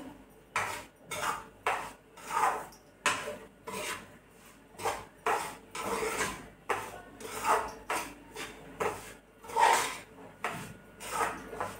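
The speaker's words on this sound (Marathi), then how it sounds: "बघा छान असा भाजून घ्यायचा, कलर चेंज होऊ नाही द्यायचा. त्याला सारखं सारखं चम्मच देत राहिलं ना की कलर चेंज होत नाही." Metal spoon rhythmically scraping and stirring dry semolina (rava) as it roasts in a kadhai, a steady series of close rasping strokes roughly once a second with no talk.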